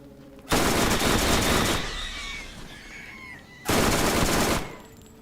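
SMG fire in the Borderlands video game: two loud sustained bursts of rapid automatic shots, the first lasting over a second, then a quieter gap with game effects, then a second burst just under a second long.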